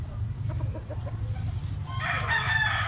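A large three-year-old rooster at a market in Carbon, Cebu clucks a few short notes, then lets out a loud crow, over a low rumbling background.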